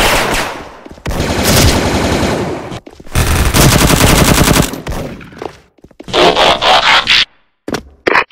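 Bursts of rapid automatic fire from a Prime FN FAL rifle in the shooter game Bull Soldier Front, loud and close, several sustained volleys broken by short pauses and ending in quick short bursts.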